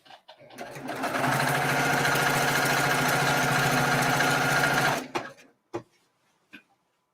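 A sewing machine stitches a quilt binding in one steady, continuous run of a few seconds, close and fairly loud, then stops, followed by a few faint handling knocks.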